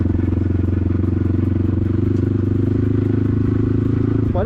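KTM-faired motorcycle ridden slowly near houses, a steady low rumbling engine with a rapid even pulse, close and loud throughout.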